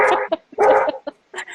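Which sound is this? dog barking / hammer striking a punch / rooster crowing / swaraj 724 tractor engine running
dog barking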